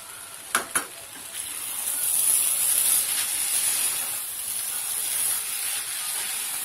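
Rice fries in a pot for carrot pulao, giving a steady, close hiss and sizzle with a couple of sharp clicks from stirring near the start.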